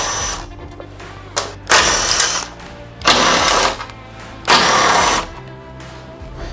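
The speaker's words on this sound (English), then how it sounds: "So we're gonna use our impact right now to get these off." An impact driver zips out Torx IP40 bolts from the bumper of a 2021 Ford Bronco in three loud, close bursts of about half a second each, separated by short pauses.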